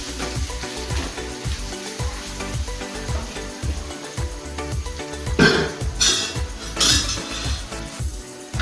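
Shallots and curry leaves frying in a pan for a Kerala-style muthira (horse gram) thoran, giving a steady sizzle with repeated clinks and scrapes of a spoon against the pan, swelling louder partway through.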